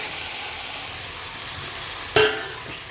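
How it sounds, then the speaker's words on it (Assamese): Mutton fries in spiced oil in a pan with potatoes and whole garlic, sizzling with a loud, steady hiss. A single sharp clank of the stirring utensil is heard near the end. "একদম বঢ়িয়াকৈ ফ্ৰাই কৰি লৈ আছোঁ।"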